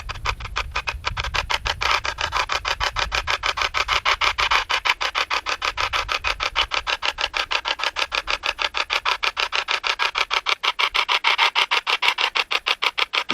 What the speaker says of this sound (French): Le bruit que vous entendez, c'est mon téléphone